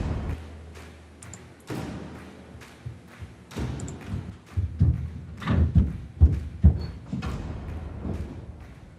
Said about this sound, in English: big drums, which I think they just play